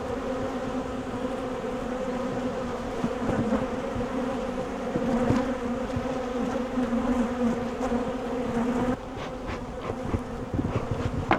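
Honeybees buzzing densely around an open frame of brood lifted from a hive, a steady close hum of many bees that carries on without pause throughout.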